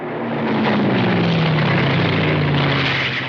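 WWII fighter aircraft over Dieppe in a loud, continuous propeller-engine drone, with a steady low hum and a pitch that slowly sinks as the planes pass; no voices.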